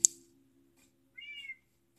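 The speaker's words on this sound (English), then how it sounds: "Where's my orange cat?" An orange cat meowing in Minecraft, one short meow after a brief click, quiet and alone over faint game background hum.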